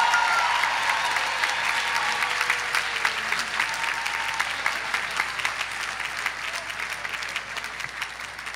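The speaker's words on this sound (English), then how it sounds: "Please honor all the master degree awardees with your applause." Sustained audience applause at a 2018 commencement ceremony honoring master's degree awardees, a dense steady patter of many hands clapping in a large hall, loud and continuous throughout with no talk over it.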